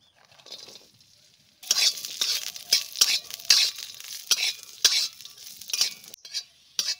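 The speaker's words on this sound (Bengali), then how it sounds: "কাজু আর কিশমিশ হালকা একটু ভেজে নিলাম" Cashews and raisins fry in a spoonful of ghee in a kadai, a steady close sizzle broken by repeated scraping stirs and clinks of a spoon against the pan, starting after a brief quiet moment.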